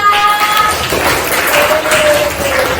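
Classroom students applaud together in a dense, loud, continuous burst of clapping that fills the room with little talk.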